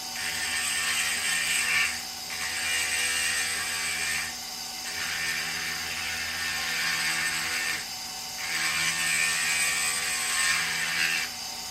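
A high-speed tool grinds at the intake port of a Stihl 201 T chainsaw in three or four sustained bursts of harsh whirring, with short pauses between them.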